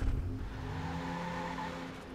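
A car driven in the video game Watch Dogs gives a steady, fairly close engine drone with a faint rising tone, alone without talk.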